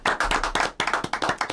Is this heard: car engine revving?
no